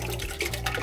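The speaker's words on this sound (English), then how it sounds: "So get a little milk and just kind of pour it in." Milk poured into a pan while cooking an omelette, a short close liquid splash and gurgle.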